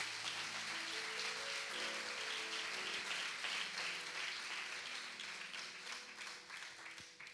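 A church congregation applauds in praise during a service, with dense, sustained clapping that fills the room and steady keyboard notes running underneath.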